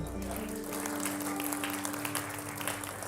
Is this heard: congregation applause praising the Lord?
yes